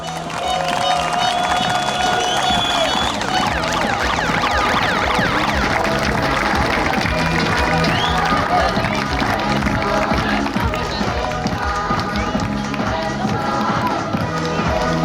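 Spectators applauding the vice-champions on a women's horse-ball championship podium in France, a busy crowd din of clapping and cheering mixed with music and scattered voices.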